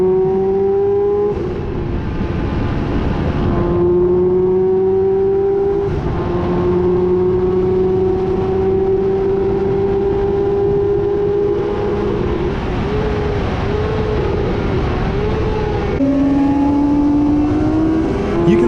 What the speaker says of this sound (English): This continued on the straight as I was overhauled by the more powerful 1000cc bikes.